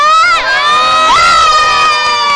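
A large crowd of spectators cheers and shouts loudly and continuously at a public event, with high excited voices and whoops rising over one another and no clear speech.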